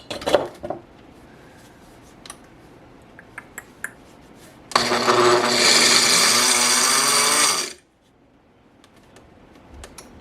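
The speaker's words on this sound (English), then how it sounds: "think I'm going to get out my blender and give that a try" A few quiet clicks and handling noises, then a blender roars loudly for about three seconds, grinding dried garlic into powder, before cutting off abruptly.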